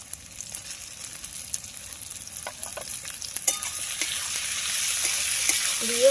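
Tomatoes go into a hot pan while matar mushroom curry is being cooked, giving a soft steady sizzle with occasional stirring clicks that builds gradually, ending in a brief louder hiss.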